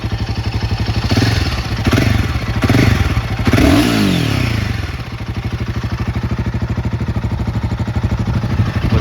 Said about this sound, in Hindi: ये इसका एग्जॉस्ट साउंड है।